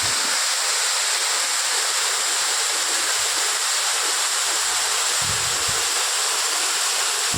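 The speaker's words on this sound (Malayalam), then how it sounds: "ഇനി നമുക്ക് വെള്ളച്ചാട്ടത്തിൻ്റെ വിശേഷങ്ങളിലേക്ക് പോകാം." Vazhappara waterfall pours in a steady, loud, continuous roar of rushing water, close and unbroken for the whole stretch, with no voices.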